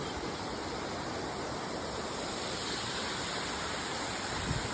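Small streams of a waterfall at Wewalwatta split and tumble down. The water makes a dense, constant roar that stays close and steady throughout, with no voices.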